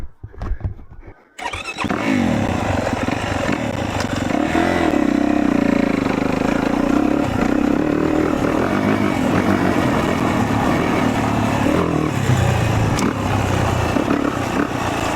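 A 2026 Yamaha YZ450F dirt bike rides a backyard sand track, its engine starting up after a short pause and then roaring steadily, loud and close, with rising and falling revs throughout.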